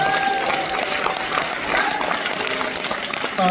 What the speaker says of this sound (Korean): 여러분 동의하시면 좀 박수로 환영해 주십시오